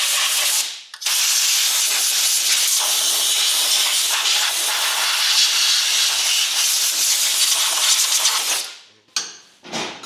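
Compressed air blasts steadily through the carburetor of a small-engine sawmill as it is blown out, a loud, continuous close hiss lasting several seconds, then cutting off into a couple of brief shorter puffs.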